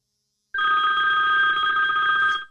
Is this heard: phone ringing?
yes